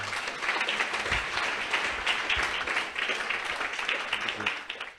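A church audience claps and applauds, with dense, steady applause that tapers off at the end. A few low thumps and possible voices sit underneath.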